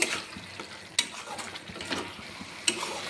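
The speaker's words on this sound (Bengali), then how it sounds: "সব কিছুকে আরও একটু কষিয়ে নেব।" Spices for a Bengali fish curry are stir-fried in a pan, giving a quiet, steady sizzle broken by a few sharp scrapes and clinks of the stirring utensil, with no talking.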